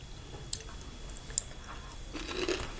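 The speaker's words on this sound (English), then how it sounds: "You hear that crunch?" Fried chicken gizzards are chewed close to the mic, with a couple of sharp crunchy clicks and then a stretch of moist, noisy mastication.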